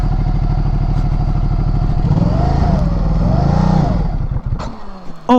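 A Ducati Multistrada motorcycle engine idles with a close, steady pulsing beat, revs up and down twice, then sputters and dies with a few clunks near the end.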